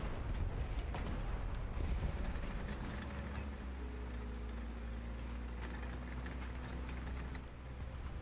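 A BTR armored vehicle engine in a video game drones as a steady, loud low rumble with sustained humming tones, continuous for the whole stretch.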